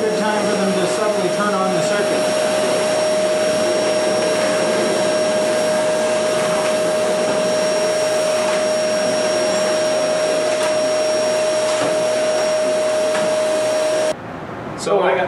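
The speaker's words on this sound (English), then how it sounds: "all vacuumed up and cleaned up, ready for use" A vacuum cleaner runs in a studio being renovated, giving a loud, steady whining drone with a constant high tone that cuts off abruptly just before the end.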